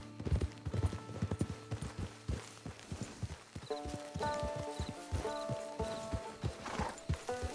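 A horse in Red Dead Redemption 2 clip-clops on the ground with steady hoofbeats, then gives a drawn-out neigh and whinny, close and clear over a faint game background.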